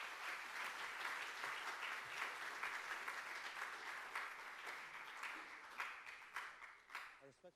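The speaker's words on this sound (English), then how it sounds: "give a round of applause for Major Weaver and her husband, Command Sergeant Major Weaver." An audience at a leadership engagement event applauds steadily in a full round of clapping that thins out and fades toward the end, with some talking underneath.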